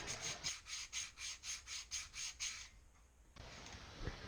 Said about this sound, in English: this is just a piece of PVC with 100 grit sandpaper on it